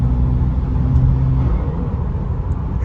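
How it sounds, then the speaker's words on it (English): A BMW G20 330e's turbocharged B48 engine roars steadily under acceleration with a deep rumbling drone and a faint whirring from the turbo, no talking. "The turbo noises are insane"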